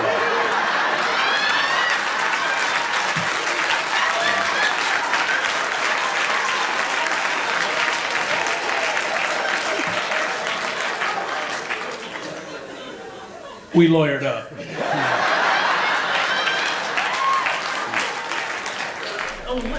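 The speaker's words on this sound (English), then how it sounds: "And you applaud it, so great." Comedy club audience applauding a comedian-storyteller's joke, dense sustained clapping with chatter and chuckles, loud and continuous, then a brief break as a voice speaks before the clapping resumes.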